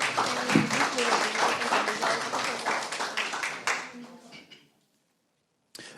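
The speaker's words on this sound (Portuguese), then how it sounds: "por favor, aplausos" A lecture audience claps for a speaker, dense applause that tapers off after about four seconds into near silence before a brief sound at the end.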